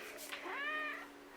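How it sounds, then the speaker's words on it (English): An old pet cat gives a single drawn-out meow that rises and falls, close and clear, with faint background noise around it. "if I can move my cat. He's an old man."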